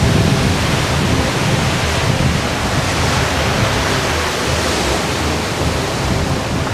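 Storm waves churn at sea as a dense, unbroken roar of rushing water and wind, loud and close, holding steady without pause and with no voices over it.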